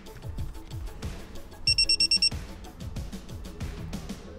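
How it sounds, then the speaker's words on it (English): Six quick, evenly spaced electronic beeps from a Geotab GO9 vehicle tracking device plugged into a diagnostic port ring out over a steady background hum and clatter. "Once connected, the device emits 6 quick beeps."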